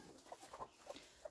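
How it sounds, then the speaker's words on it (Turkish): Faint, quiet clucks and short squawks from chickens fighting in a garden, a few scattered calls over a soft background hiss. "Tavuklar birbirine giriyor"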